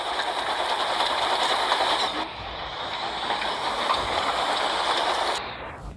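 Steam locomotives running along railway track toward a cold, dark yard, a steady rumbling mechanical drone with broadband hiss, fairly loud and continuous, dipping briefly midway and cutting off at the end.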